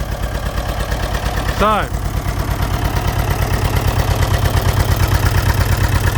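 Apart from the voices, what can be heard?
Fordson Major tractor engine running with new exhaust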